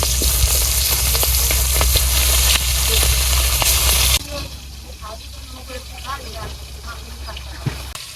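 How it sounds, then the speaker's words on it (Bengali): Hilsa fish fries in a wok, a loud, dense sizzle that drops sharply partway through to a softer bubbling crackle, with a voice talking over parts of it. "এই কড়াইতে আমি ইলিশ মাছ ভেজে নিবো।"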